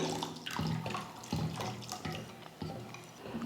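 Water being poured a little at a time into a cooking mixture while it is stirred on the stove, a continuous close trickle and splash with soft scraping strokes repeating under it, no voices.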